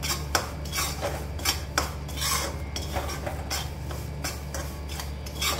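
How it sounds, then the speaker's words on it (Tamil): Gram flour (besan) roasts in a pan for halwa while a metal spoon stirs it, producing repeated scraping and clinking strokes in a steady rhythm against a low background hum, close up with no talking. "பாருங்கள் கடலை மாவு நல்லா வறுப்படுது, தெரியுதா உங்களுக்கு?"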